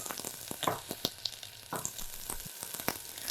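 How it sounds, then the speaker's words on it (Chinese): White onions sizzling in hot salad or olive oil in a pot over medium-low heat, a steady close crackle with light stirring throughout and no talk. "把洋葱放在里面给它爆软"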